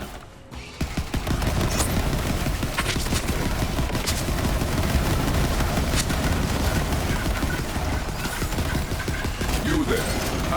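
Rapid gunfire from the Sawbar rifle in Borderlands 3, a dense, loud burst of continuous shots with mechanical clatter running nearly the whole stretch, game effects layered underneath.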